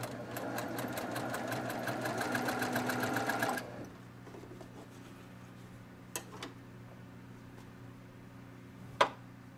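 A sewing machine stitches a quilt block along a marked line for a Kimberbell Cutie table topper, running steadily and fast for about three and a half seconds before stopping, followed by a few faint clicks and a sharp tap near the end.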